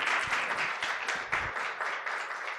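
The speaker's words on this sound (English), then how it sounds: "Oh, you can clap, yeah." A small audience at a talk applauds, steady scattered clapping for a couple of seconds, moderately loud and continuous without voices.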